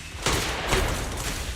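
Sniper shots in the video game Zenless Zone Zero: a loud, dense, booming burst with a sharp onset and a second punch right after, rumbling on without a break.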